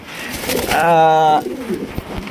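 Domestic pigeons cooing at a breeder's loft, a close, loud, resonant coo swelling in the middle of the clip between softer rustling and faint background sounds.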